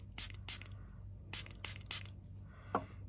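Several quick spritzes from a spray bottle of camera sensor cleaning liquid, short hissing bursts in two clusters, close by, with a faint click near the end.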